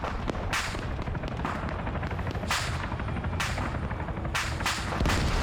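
Gunfire in a military combat video game set in Vietnam, dense continuous shooting with repeated loud sharp bursts over a rumbling background.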